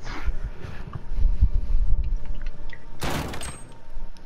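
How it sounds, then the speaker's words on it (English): Shotgun blasts in a Modern Warfare 2 two-versus-two Gunfight match: a heavy burst of low booming fire through the middle, then a sharp, loud blast near the end, with no talk over it. "Fucking shotguns."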